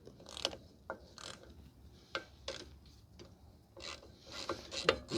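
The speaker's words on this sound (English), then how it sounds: "Remove the 10 millimeter bolt." A ratchet works a 10 mm bolt on the rear brake backing plate of a 2005 Toyota Corolla, giving short, faint clicking strokes in uneven bursts with brief gaps, heard close up with no talking.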